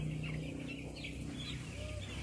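Broiler chicks peep continuously in a first-week brooder. The thin, high chirps overlap as a dense, moderately faint chorus over a low background hum.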